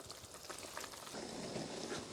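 A pot of beetroot dish simmering on the stove, with a steady bubbling and popping texture that carries evenly at moderate volume throughout.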